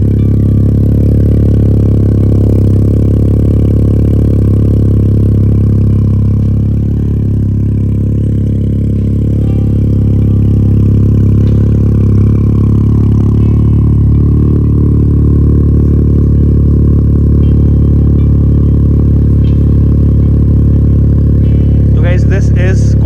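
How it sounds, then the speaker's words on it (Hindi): A modified Volkswagen Polo engine running after a cold start: a loud, steady, deep idle rumble held close for the whole stretch, with a slight dip in the middle and faint rattles near the end. "अच्छा, तो भाई अभी कोल्ड स्टार्ट हो रही है।"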